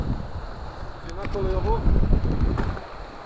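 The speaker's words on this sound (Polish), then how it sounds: "Szkoda tylko, że tak wieje" Steady wind roars and buffets a microphone outdoors near a railway bridge, a continuous loud rumble with gusts, while someone talks over it.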